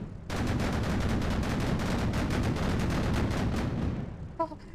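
Type 76 SPAAG anti-aircraft gun in the Sprocket game fires a dense, rapid stream of shots for about four seconds, loud and close, with each round blurring into a continuous roar before it cuts off.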